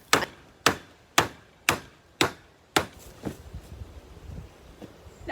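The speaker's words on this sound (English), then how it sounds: "pulling the netting down tight at the same time as hammering in those side strips" A hammer drives wooden side strips into place on a garden polytunnel while its netting is pulled tight, six sharp, evenly spaced blows ringing out close by, followed by softer scuffing and rustling.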